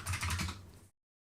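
A quick flurry of computer keyboard keystrokes in a quiet room, close and fairly soft, stopping abruptly into silence after about a second.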